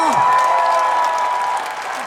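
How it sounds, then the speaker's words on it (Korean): Applause from an audience at a trot singing contest event, a short burst of clapping under a lingering tone, with a voice briefly audible at the start and the clapping fading near the end. "박수 한 번만 주시겠어요?"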